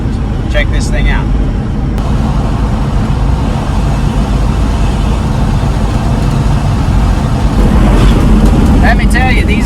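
An old Chevrolet K30 truck drives along back roads, its engine and road noise a loud, steady rumble throughout, with rattles and brief knocks from the cab near the start and end.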